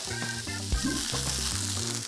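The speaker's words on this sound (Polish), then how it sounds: "Smażę bakłażana tak długo, aż będzie zupełnie miękki." Eggplant sizzles and crackles steadily in a hot pan, with occasional stirring scrapes and clinks; no voices.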